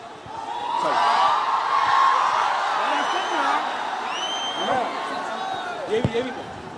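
Crowd noise from a live audience at a fan event in Patna, a dense swell of cheering and whoops with scattered voices, loud at first and easing slightly, a few sharp shouts near the end.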